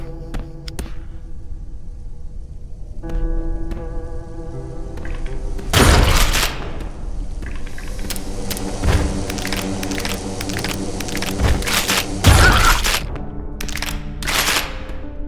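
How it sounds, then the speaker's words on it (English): Gunfire in a video game during an Urge Deathless boss run: bursts of shots and heavy booms repeat through the stretch, loud and dense over a layered game soundtrack. "Oh my god, there's gunshots."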